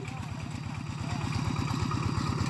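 A farm tractor engine revs up before ploughing a rice field in the evening, a steady, rapid chugging pulse that grows louder about a second in and keeps running close by.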